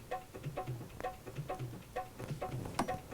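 A dholak hand drum, a tubular drum played with the hands, plays a steady, repeating groove of deep bass strokes and sharper slaps, loud and close with no voices.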